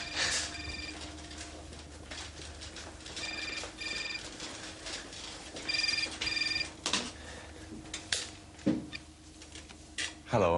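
A mobile phone rings with repeated electronic ringtone bursts at a steady rhythm, moderately loud among background room noise and clicks in a Thai drama scene.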